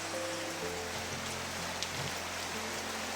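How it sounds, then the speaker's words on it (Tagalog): Steady heavy rain pours down without a break over a flooded chicken farm in Mindanao after three days of downpour, a dense constant hiss with faint low hum lines beneath, no voices. "Grabe yung ulan, ulang hinto."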